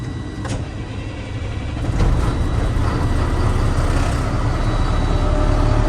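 A truck's engine starts in the cab during a pre-trip safe start, with the parking brakes set and the gearbox in neutral, a short crank that rises into a steady, close idle rumble.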